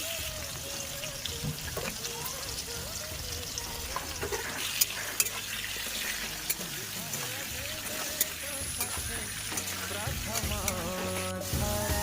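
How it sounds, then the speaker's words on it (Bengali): Potatoes frying with salt and turmeric in mustard oil left from frying fish, a steady close sizzle running throughout with occasional stirring clatter, and a busy outdoor kitchen background behind it. "ওই মাছ ভাজার তেলে আলুগুলোকে ভালো করে ভেজে নেব লবণ হলুদ দিয়ে।"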